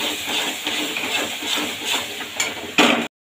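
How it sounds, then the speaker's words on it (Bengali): Dried red chili paste stir-fried in hot oil for a Bengali mutton dish, giving a steady close sizzle with scraping spatula strokes, a sharper clatter near the end before the sound cuts off. "দিয়ে বেশ ভালোভাবে এটাকে কষিয়ে নেব।"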